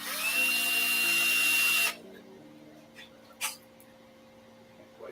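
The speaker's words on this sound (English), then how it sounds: "Drill these holes real quick." A power drill boring holes during a takadai braiding-stand build whines loudly and steadily for about two seconds, then cuts off, leaving faint background hum and a couple of soft knocks.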